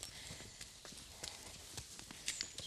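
A yearling horse walks through a forest, its hooves thudding in a steady, irregular clip-clop. The steps are faint and distant, with no voices.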